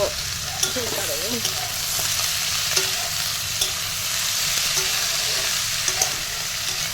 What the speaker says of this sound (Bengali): তো একটু গোটা জিরে ফোড়নের মধ্যে দিয়ে দিয়েছি